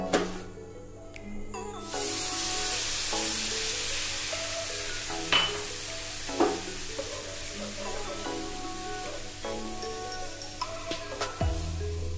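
Water poured into a hot pan of roasted oats sets off a sharp hiss that settles into a soft, steady sizzle with occasional faint clinks and bubbling, heard close up with no talking.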